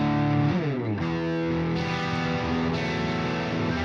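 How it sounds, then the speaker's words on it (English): Crunchy overdriven electric guitar through an amp-simulator plugin, chords ringing with saturated, moderately gritty distortion, loud and continuous with no talk. "Very nice type of distortion."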